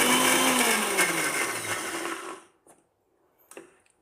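A kitchen blender whirs loudly in a short pulse blending egg whites and sunflower oil into mayonnaise, its motor pitch sliding down before cutting off, followed by a few faint clicks and knocks.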